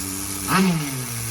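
A rebuilt nitro engine in a Tamiya TGS-R RC car at first startup, idling as a steady low drone with a brief rising swell of revs near the middle before settling back to an even idle.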